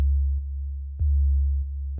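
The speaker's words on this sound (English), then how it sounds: "Just kind of a sine wave, nothing really super exceptional." A plain sine-wave 808 bass in Ableton Live 11 plays two long, loud, deep notes, each starting with a soft click and followed by a short quieter tail.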